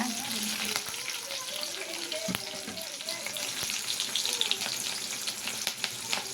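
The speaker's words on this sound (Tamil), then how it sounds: "கொஞ்சமாக கருவேப்பிலை போட்டுக்கலாம் நல்லா வதக்கிடலாங்க" Curry leaves sautéing in hot oil in a pan, cooking for a Tamil okra tamarind curry, give a steady, close sizzle and frying crackle that runs throughout, with occasional stirring scrapes and faint background sounds.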